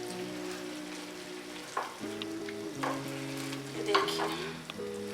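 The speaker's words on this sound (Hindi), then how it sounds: "अब इसको अच्छे से मिला के आपने दोबारा से पकाना है ताकि दूध सारा जल जाए और लौकी भी उसके साथ दूध में ही पक जाए।" Bottle gourd cooking in milk in a pan for lauki barfi, with steady sizzling and several clear scraping stirs of a spoon against the pan, close and moderately loud, plus a brief spoken aside.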